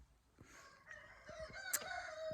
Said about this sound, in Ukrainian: Півники співають